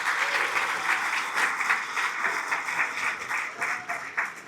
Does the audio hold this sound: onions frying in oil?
no